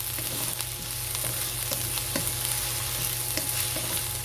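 Tomatoes sauté in a pan for ginataang tilapia, giving a steady close sizzle with soft, irregular scrapes from stirring running throughout, and no one speaking.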